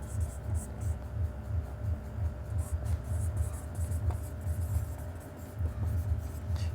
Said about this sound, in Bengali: সো আমি এখানে লিখে দিই